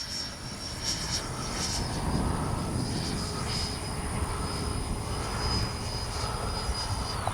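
A Freewing 90mm T-45 Goshawk radio-controlled jet flies past, its ducted fan giving a steady whining roar with a high tone, moderately distant and fairly faint, with no talk.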